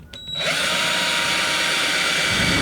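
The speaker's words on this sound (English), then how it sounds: "we'll go ahead and drill our hole" Power drill boring a hole in a drone frame arm, starting after a brief click and then a steady loud high whine that runs continuously to the end, close up with no talk.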